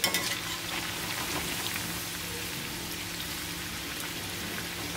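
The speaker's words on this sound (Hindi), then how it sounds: "यहाँ पे हमारे कोफ्ते बन रहे हैं गर्मा गर्म" Potato koftas frying in hot oil in a pan, a steady dense sizzle with a crackling, rain-like texture that holds at an even level from start to finish, no voices.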